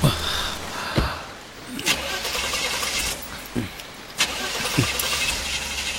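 A parked car's starter cranks in several short, sharp bursts spaced across a few seconds, but the engine never catches, heard close against a steady background hum.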